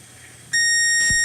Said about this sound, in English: Now we'll need our multimeter continuity and we'll do a quick test to find the ground port